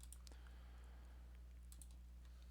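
Faint typing on a computer keyboard, a few soft scattered key clicks over a steady low hum, heard while entering a math problem on a computer.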